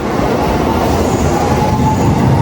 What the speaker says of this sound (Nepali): म यो बच्चा ट्रेन आयो है ल